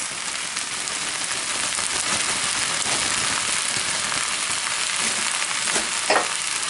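Chicken and veggie fried rice with bean sprouts being stir-fried, a steady loud sizzle running throughout with a few scraping stirs near the end.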